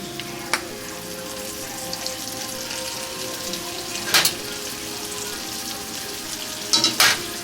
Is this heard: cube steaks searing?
yes